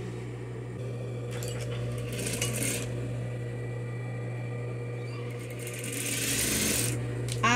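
A sewing machine stitching a long hem on organza fabric for a garland, a steady close mechanical whir with a constant motor hum and rising bursts of rapid needle clatter.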